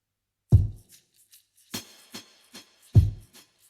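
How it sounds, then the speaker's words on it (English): The full drum track of a song plays in isolation, with deep punchy kick hits, a sharp snare crack and light ticking cymbal taps in a sparse, clean groove. "So this is all the drums together."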